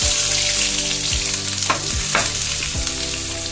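Onion frying in a hot pan for a fish curry, a steady loud close sizzle with occasional stirring scrapes and no voices.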